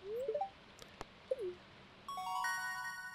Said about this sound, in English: Ooh, level up. Level 1 foraging,